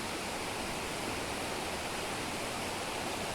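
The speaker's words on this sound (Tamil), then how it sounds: "இந்த அருவி பாருங்க எவ்வளோ அழகாக போயிட்டு இருக்குதுங்க" A forest waterfall pours in a steady, dense broadband rush with no breaks, close and unbroken throughout, with no voices over it.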